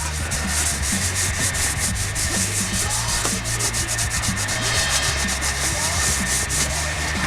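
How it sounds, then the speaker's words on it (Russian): Sandpaper rubs hard and continuously over painted metal while old paint is sanded off a Minsk motorcycle, a loud, close, steady scratchy hiss with no speech. "Сейчас меленькой наждачкой пройдусь."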